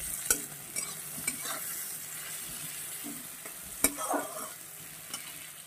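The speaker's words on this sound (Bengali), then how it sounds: "এবার এটাকে খুব সুন্দর করে আমি ভেজে নেব।" Vegetables frying with salt and turmeric in a pan, a low steady sizzle broken by occasional sharp clinks and scrapes of a spoon stirring, close up with no voices.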